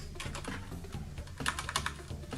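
Keys clack on an Akko 9009 Retro 87-key mechanical keyboard fitted with MX Brown switches, a quick close run of typing strokes that grows busier toward the end, with no voices.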